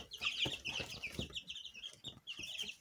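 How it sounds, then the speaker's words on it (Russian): Young chicks, ten days old and raised as future laying hens, cheep in a shrill, busy chorus close by, with soft rustling and flapping under the continuous peeping. "решили мы вам показать наших цыплят"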